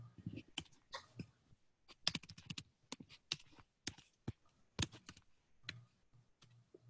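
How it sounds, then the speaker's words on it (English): Typing on a computer keyboard during an online work session, with bursts of sharp key clicks in irregular runs separated by short pauses, close and fairly quiet, with no talk over it. "let me share my screen so you can see what I'm typing here"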